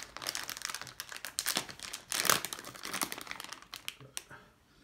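Soft plastic fishing bait package, salted plastic lures, being ripped open by hand: a steady run of close crinkling and tearing of thin plastic with sharper crackles in the middle, fading out at the end.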